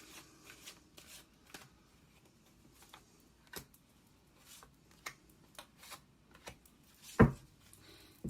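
Black Moon Astrology oracle cards being shuffled and drawn, soft papery flicks and taps scattered across a quiet room, with one sharper louder slap near the end.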